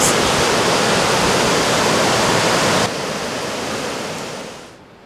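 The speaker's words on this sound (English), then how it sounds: "Water waves." Water waves rush in a steady, loud broadband roar like surf. The sound drops a step partway through, then fades out at the end, with no voices.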